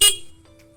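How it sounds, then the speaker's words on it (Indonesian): A Suzuki Satria FU fuel-injected motorcycle horn sounds one short, loud toot that cuts off quickly, leaving a faint steady tone and low hum. "kemudian untuk klakson ya"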